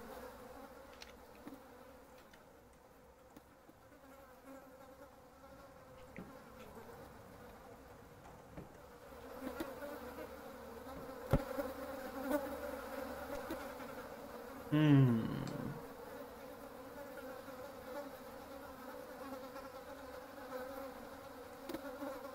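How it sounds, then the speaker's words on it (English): Flies buzz around rotting meat in the horror game Don't Knock Twice, a faint, continuous insect drone in a quiet ambience, with one brief louder swell near the middle. "There's flies around it as well"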